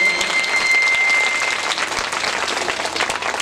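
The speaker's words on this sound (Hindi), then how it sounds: "ताली बजा के स्वागत करें।" A seated crowd at a seven-day Bhagwat katha gathering in Thar Vajidpur, Firozabad, breaks into loud, sustained applause, dense and even throughout, with no talking above it.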